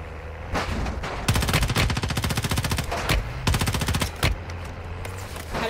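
Loud rapid automatic gunfire in a shooter video game comes in several long sustained bursts with brief gaps between them, close and dominant.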